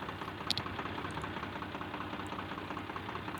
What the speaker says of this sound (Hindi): तो इस नोजल को जब हम ढीला करते हैं पाइप को, तो ये इसका साउंड बिल्कुल भी चेंज नहीं होता है।